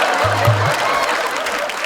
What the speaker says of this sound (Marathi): एकदा जोरदार टाळ्या माझ्यासाठी झाल्या पाहिजे.